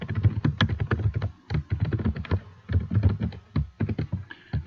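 Steady computer keyboard typing, close and fairly loud, with a dense patter of keystrokes broken by a few short pauses and no talk.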